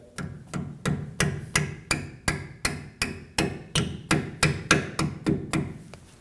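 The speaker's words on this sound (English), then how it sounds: "we can use a hammer just to bop that down the rest of the way" Hammer tapping a brake hose shim on a 2009-2014 Ford F-150 in a steady, even rhythm, around twenty sharp close-up metal strikes with no talking.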